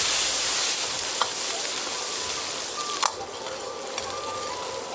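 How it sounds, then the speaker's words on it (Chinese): Aromatics sizzle steadily in hot oil in a large wok for a Chongqing-style stir-fry of double peppers with pork, the hiss constant and close. A couple of sharp metallic clinks of a spatula against the pan break through. "接着下辅料继续爆香"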